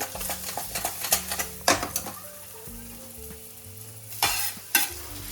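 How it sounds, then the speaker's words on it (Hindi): Onions sautéing in a kadhai for red sauce pasta, with a steady sizzle broken by repeated sharp scrapes and taps of a spatula, loud and close. "अभी फ़िलहाल जो प्याज है उसको इसमें डाल देते हैं।"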